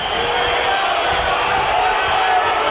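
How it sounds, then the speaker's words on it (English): Football crowd at an EFL Championship match between Burnley and Blackburn in 2022, a steady, dense roar and murmur of many voices filling the stadium without pause. "Crowd not happy. Not the worst thing that the crowd are getting anxious."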